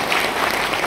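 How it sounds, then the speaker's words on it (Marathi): An audience at a World Environment Day event by CREDAI-MCHI claps in a brief, dense burst of applause that sounds loud and close. "खरं तर तिचं टाळ्या वाजून कौतुक करा."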